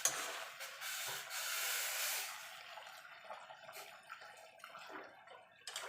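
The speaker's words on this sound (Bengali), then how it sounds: "এখানে গরম জল দিয়ে দেবো।" Hot water pours into a pot of chicken curry, a broad steady hissing splash that swells loud in the first two seconds, then tapers into softer trickling and bubbling with no talk.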